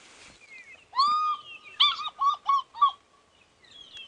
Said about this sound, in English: the sound of the fish eagle is the best possible call